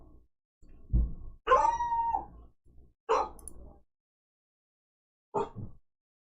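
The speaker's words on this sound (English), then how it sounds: "The dog is very passionate about the weather." A dog howls in several drawn-out, wavering bursts with short whimpers between, fairly close and loud, trailing into a brief final yelp-like howl after a pause.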